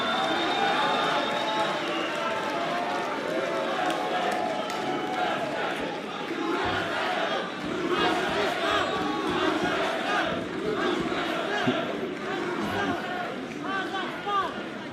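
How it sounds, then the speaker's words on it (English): A partisan arena crowd at a Karate Combat fight night in Denver, with an American facing a Kazakhstani fighter, roars and chatters steadily as a loud background wash, while commentators talk over it throughout. "Very partisan crowd, as you can imagine, for Denver between an American and a Kazakhstani"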